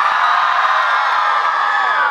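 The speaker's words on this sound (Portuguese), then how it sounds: "Cadê o grito pra quem conhece ela?" A large audience at an anime convention in Brazil shouts and cheers loudly, a dense, continuous roar of voices and whoops sustained throughout.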